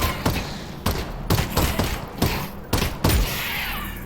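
Rapid bursts of gunfire in the Half-Life Campaign+ mod, several sharp, loud shots fired in quick succession with brief gaps between volleys.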